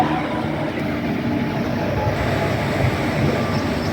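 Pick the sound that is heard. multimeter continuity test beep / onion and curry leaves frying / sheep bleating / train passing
train passing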